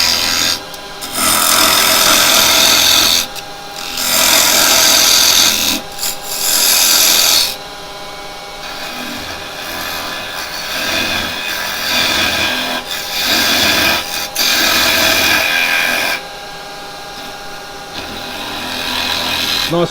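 A gouge hollows out a piece of wood spinning on a woodturning lathe, giving a loud, close, scraping rasp in repeated passes of a few seconds each, broken by brief pauses, over the lathe's steady hum.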